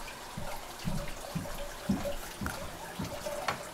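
A backyard pond filter system, a white pan with a foam rubber pad set among rocks in a red-eared slider turtle pond, lets water trickle and splash in soft irregular bursts, close by with no talk.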